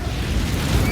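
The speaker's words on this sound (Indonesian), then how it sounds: "truk bensin sudah siap untuk meledak" A petrol truck explodes in a loud, continuous roaring rumble of blast noise that holds steady for just under a second, with no voices.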